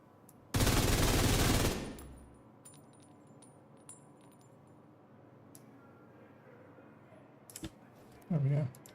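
Gunfire in the video game The Division during PvE farming, a loud sustained burst of about a second and a half, followed by quieter background game noise and a few short clicks and thuds near the end.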